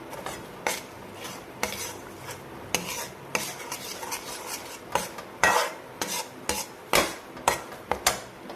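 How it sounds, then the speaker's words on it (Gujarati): Spoon stirring and scraping rajgira flour as it roasts in a pan for sheera, a series of close, irregular metallic scrapes against the pan with a faint sizzle beneath. "આ રીતે આપણે હળવે હળવે ગેસને ધીમો રાખીને શેકવાનું છે"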